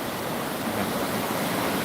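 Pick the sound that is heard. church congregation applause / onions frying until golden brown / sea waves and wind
sea waves and wind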